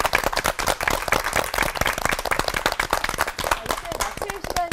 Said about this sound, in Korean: 오늘 귀한 말씀 나눠주신 세 분 목사님께 뜨거운 박수 부탁드리겠습니다